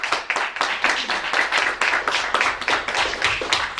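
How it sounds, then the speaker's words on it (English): Audience applause at a school showcase, loud and close, with a clear rhythm of individual claps driving it steadily throughout. "let's give them a round of applause"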